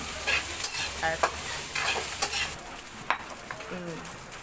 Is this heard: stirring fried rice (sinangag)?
yes